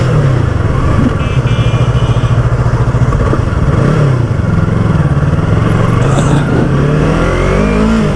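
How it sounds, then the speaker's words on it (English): A 2019 Yamaha YZF R3 BS4 motorcycle accelerates hard, its engine loud and close, the revving pitch climbing and shifting over a constant roar of wind and road noise. "This bike is powerful."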